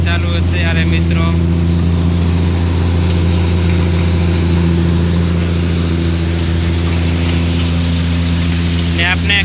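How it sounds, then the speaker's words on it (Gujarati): A Shri Balaji thresher threshing peas, driven by a Swaraj 744 FE tractor, runs with a loud, steady engine drone and mechanical rumble throughout, and faint speech is heard over it at the start and end. "શ્રી બાલાજી ઠેસર है વટાણામાં ચાલુ અત્યારે મિત્રો।"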